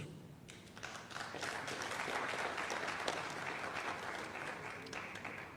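A crowd claps for election contestants at a gubernatorial primary gathering, a sustained, dense round of applause that swells and holds steady.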